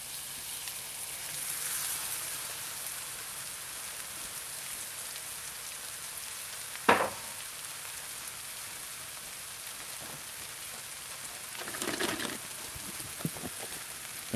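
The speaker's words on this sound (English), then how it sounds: "I'm going to deglaze just a tiny bit of sherry vinegar here." Sherry vinegar hitting a pan of chanterelle, porcini and amanita mushroom gravy, giving a soft, steady, rain-like sizzle with a sharper crackle partway through and brief clinks near the end.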